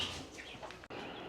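Chickens outdoors in a garden yard, soft clucks and bird-like chatter mixed with light ambient noise, with a brief dropout near the end.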